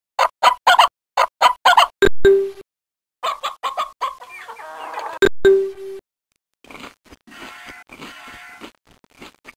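Chickens in a children's farm video game cluck in quick bursts of choppy squawks, with a couple of sharp electronic tones and a brief musical flourish between them. No voices are heard.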